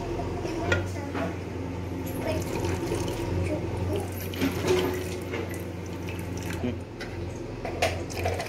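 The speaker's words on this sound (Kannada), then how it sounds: "ಎಕ್ಸ್ಟ್ರಾ ಇರೋ ನೀರನ್ನ ನಾನು ಇನ್ನೊಂದು ಪಾತ್ರೆಗೆ ಶಿಫ್ಟ್ ಮಾಡ್ಕೊಳ್ತಾ ಇದೀನಿ" Excess water from cooked dal is poured off into another vessel, giving a steady running, splashing flow, with a voice talking over it.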